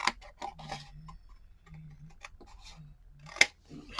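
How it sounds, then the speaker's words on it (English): Scissors trim paper card for an altered book page, giving a string of close, quiet snips and soft slicing strokes with small ticks between them and one sharper click near the end; no speech. "We're going to do some trimming right there."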